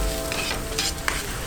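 Onions, chilies, turmeric and other spices fry in a pan for a Kerala-style chicken stew, a dense close sizzle with a couple of brief stirring scrapes, alone without talk.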